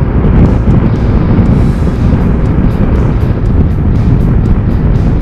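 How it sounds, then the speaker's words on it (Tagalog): Strong gusting wind buffeting the microphone while riding a Benelli cruiser motorcycle, a loud continuous roar with rushing surges throughout, no talk. "Kasi dito lakas ng hangin."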